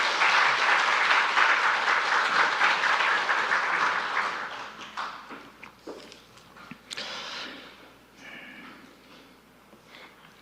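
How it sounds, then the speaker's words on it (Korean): Warm applause from a church revival gathering welcoming a speaker, strong at first and then thinning out into scattered claps and quiet room noise toward the end. "뜨거운 박수로 환영하도록 하겠습니다."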